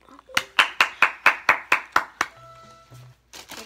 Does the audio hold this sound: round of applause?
yes